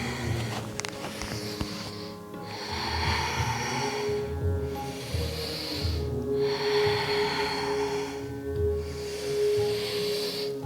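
Deep breathing during a yoga flow, slow rhythmic inhales and exhales, about three long airy breath cycles heard close and fairly loud, with no talk over them.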